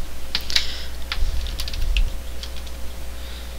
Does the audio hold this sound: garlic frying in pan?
no